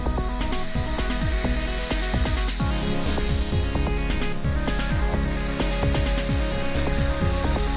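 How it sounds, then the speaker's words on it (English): A cheap Dremel-copy rotary tool on a rotary table drills three bolt-circle holes in the cast flange of a steam engine main bearing, giving a steady, loud high whine throughout with scattered low knocks and clatter from the setup. "It just needs to have the 3 holes drilled for the little bolt circle in the flange, which I'm going to do on the rotary table and my cheapo Dremel copy."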